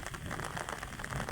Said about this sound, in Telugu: వాన పడుతుంది, ఉరుముతుంది.